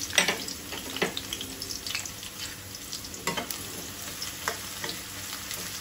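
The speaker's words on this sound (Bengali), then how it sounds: "তেলটা গরম হয়ে গেছে, পেঁয়াজ রসুনটা দিয়ে দিলাম" Onion and garlic sizzle in hot oil in a pan, a close, steady crackling fry broken by a few sharper spits and stirring scrapes.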